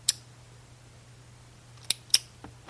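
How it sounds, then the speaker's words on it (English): Three sharp mechanical clicks from the cylinder of a Heritage Rough Rider .22 LR single-action revolver, one near the start and two close together near the end, crisp and close against a faint low hum. "Like even the cylinder. It's got nice clicks to it."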